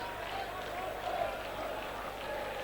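The crowd at the 1971 Cup Winners' Cup final replay in Athens, Chelsea against Real Madrid, keeps up a distant, steady roar of chanting and murmur that stays even and faint throughout.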